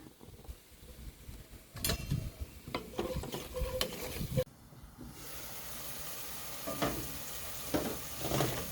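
Spice masala of cumin, coriander, chili and turmeric powder frying and being stirred in a pan for prawn curry, a steady close sizzle with scraping spoon strokes, a brief loud hiss partway through, otherwise alone.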